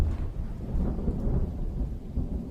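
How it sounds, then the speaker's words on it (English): In the point-and-click horror game Wardwell House, a low rolling rumble of thunder sits over steady rain, heavy and continuous with no speech. "ooh, rain. About to start raining any minute."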